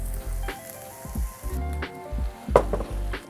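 Chopped tomatoes hitting a hot pan of kangaroo bolognese, giving a loud, close sizzle that flares in bursts with the stirring and clatter of a utensil.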